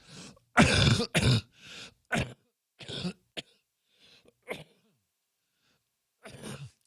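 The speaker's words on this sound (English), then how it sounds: "my cough is getting better" Several harsh coughs and throat clearings come in irregular bursts, close and loud at first, then quieter, with silent gaps between them.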